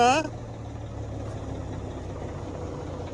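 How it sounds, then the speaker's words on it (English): A truck engine idles with a steady, low rumble from start to finish. A short voice-like sound is heard at the very start. "Just idling down."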